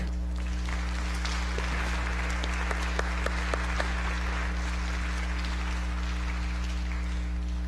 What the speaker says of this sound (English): I think we're gonna need to give you another big round of applause, Clark.